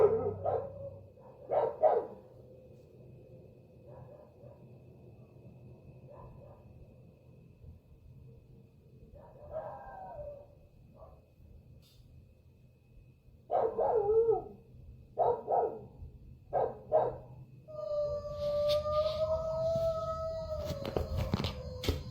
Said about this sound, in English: he heard his dog started barking like if someone was outside